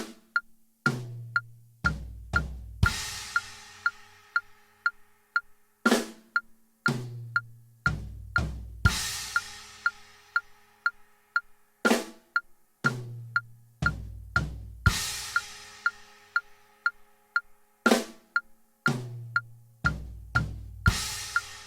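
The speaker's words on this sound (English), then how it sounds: "that's going to go flam, tom 2, floor tom, 2 hits on the floor tom, and then a crash" A drum lick of a flam, a tom, two floor tom hits and a crash, played slowly and repeated several times over a steady ticking click, each cycle ending in a ringing crash cymbal.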